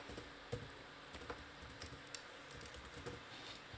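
Soft, rapid keystrokes on a computer keyboard while code is entered, a quiet irregular patter of clicks with occasional sharper taps, close and alone.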